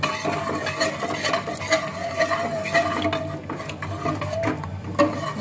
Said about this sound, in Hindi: सपैता में छौंक लगाना है